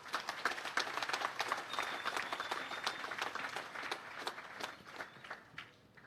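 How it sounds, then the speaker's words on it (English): An audience at an annual Guyana Defence Force function with President Irfaan Ali breaks into sustained applause, a dense, continuous clapping crowd heard from within the room for about six seconds, gradually thinning at the end. "Put your hands together for that."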